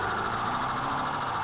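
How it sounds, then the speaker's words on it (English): A Florida Highway Patrol police siren in the GTA 5 LSPDFR police mod holds as a steady, loud electronic tone, close by and continuous, with a faint engine rumble beneath and no talking. "I am using Florida Highway Patrol siren"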